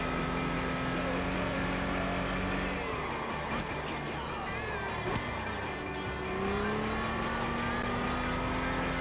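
Car engine in the racing video game Gran Turismo, a steady droning engine tone that rises and falls with shifts over nine seconds, with someone talking over it.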